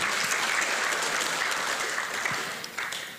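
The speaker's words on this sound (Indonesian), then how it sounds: "Sorak-sorai bagilah kita" Church congregation at a Sunday worship service clapping and cheering, a dense, sustained burst of applause close to the microphone that slowly eases toward the end.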